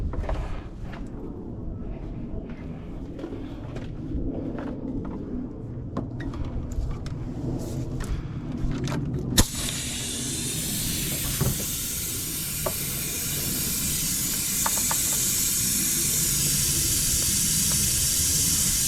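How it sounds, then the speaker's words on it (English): A pump runs with a steady hiss and mechanical whir while sucking oil out of a cylinder of a CAT C7 engine, the hiss turning broader and louder partway through and continuing steadily to the end. "So let's suck that oil out of the cylinder"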